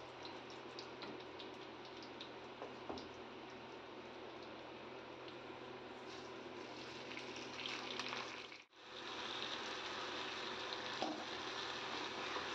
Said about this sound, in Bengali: এবার কাজু কিশমিশ আর কটা গরম মশলা, যেটা হচ্ছে দারুচিনি, লবঙ্গ, এলাচ, এগুলো আমি হালকা একটু ফ্রাই করে নিচ্ছি